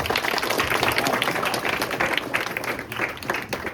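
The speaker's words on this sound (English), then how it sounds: "So round of applause for them." Audience applause for the first performers at a school science and culture event, steady clapping from a crowd, fairly loud and continuous throughout with no break.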